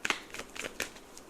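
A deck of tarot cards is shuffled by hand, a quick series of crisp riffling and slapping bursts up close, with no talking.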